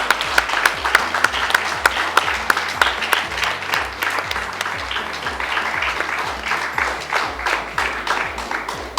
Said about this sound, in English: please stand so we can also give you a huge applause